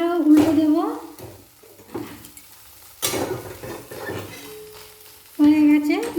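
A rice uttapam topped with vegetables fries on a low flame after flipping, a gentle sizzle broken by spatula scrapes and pan clatter, with a voice-like tonal sound coming and going in the background.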